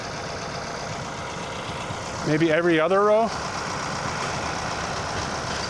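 A tractor engine runs at a steady drone while spraying weeds in a field, continuous and fairly loud throughout, with someone speaking briefly over it partway through.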